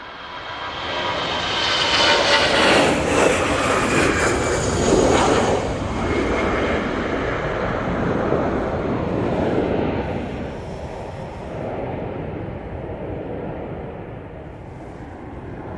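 EasyJet airliner departing Manchester Airport for Lisbon, a loud, sustained jet engine roar that builds over the first few seconds, holds steady, then eases slightly as the aircraft moves away.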